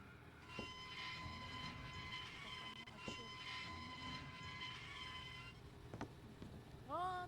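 Toy train running in the Hello Neighbor video game, a faint rolling rail rumble with tonal hums and a few sharp clicks, quiet game ambience with no talking.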